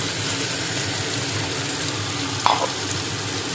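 Onion and garlic paste fries in a pan after the onions have browned in oil, giving a steady close sizzle with a brief stir or clatter partway through, and no voices.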